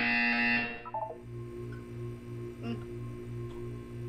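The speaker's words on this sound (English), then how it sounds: "You will hear a buzzer." A buzzer sounds in Portal 2, a steady tonal electronic drone in a test chamber, with a bright tone fading early and a low pulsing hum underneath, moderately loud and alone.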